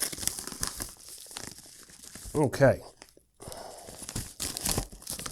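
Trauma shears cut open a plastic shipping bag holding a Meatstick wireless meat thermometer, giving close bursts of crinkling and tearing plastic between pauses, with one brief spoken word.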